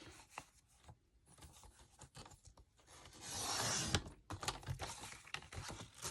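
Paper trimmed for a Candy Cane Lane 8x8 mini album, a soft scraping cut rising to a louder rasping stretch in the middle, then a few sharp scratches and rustles close by, with no voice.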